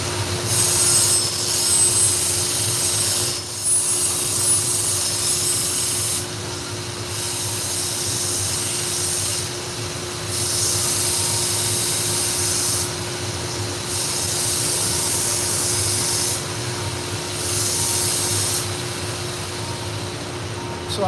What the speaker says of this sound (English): I took it over to another belt grinder and cut a new bevel in it